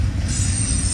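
A freight train rolls past on the main track of a double-track line, a close, loud, steady rumble of wagons with a high metallic wheel squeal over it throughout.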